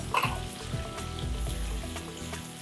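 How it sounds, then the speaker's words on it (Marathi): Finely chopped onion sautéing in hot oil in a pan for chilli garlic fried rice, a steady sizzle with occasional stirring clinks, close by with no talk. "आता ह्याच्यात 1 छोटा कांदा बारीक चिरून घेतलेला आहे, तो मी घालते। थोडंसं परतायचं"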